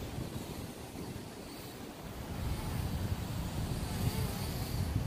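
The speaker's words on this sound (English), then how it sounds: "Sheesh, I'm getting a lot of wind now" Strong wind buffets the microphone outdoors in a park while a Snaptain A10 drone flies, a steady broadband rush that swells louder midway and keeps up throughout with no talking.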